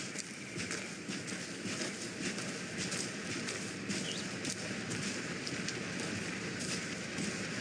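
Steady rain falling outdoors in the video game Alan Wake 2, a dense even patter with scattered drips, quiet and continuous with no talking.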